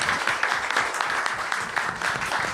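A symposium audience of foreign disciples gathered to remember a Buddhist monk breaks into applause, with moderate, continuous clapping and audible individual claps, heard without speech.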